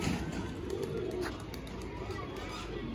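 A white pigeon with ash-grey upper feathers coos on a house rooftop, low soft coos faint beneath steady outdoor background noise.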